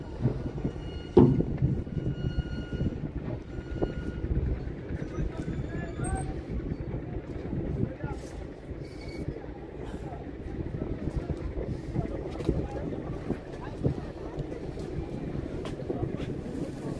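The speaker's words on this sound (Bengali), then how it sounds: "আমাদের লঞ্চ কাঠপট্টি লঞ্চ ঘাটে ঘাট দেওয়ার জন্য" A passenger launch turning toward Kathpatti launch ghat, a low steady engine rumble with water and wind noise around it, one brief thud near the start and faint indistinct talk in the background.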